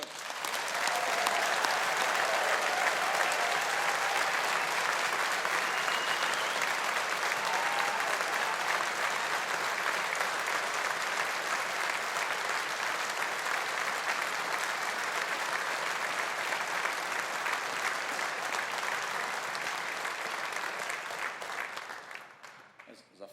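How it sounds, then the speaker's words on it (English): Sustained applause from the audience at a university engineering faculty graduation ceremony, a dense, even roar of many hands clapping for over twenty seconds before tapering off at the end. "let's give the classes of 2020 and 21 a big round of applause"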